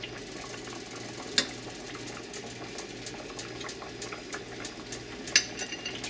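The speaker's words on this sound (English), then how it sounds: "Those are bubbling a little harder than I want." Chicken stew with drop dumplings simmers in a pot, a soft steady bubbling with small pops and two sharper blips, close but quiet.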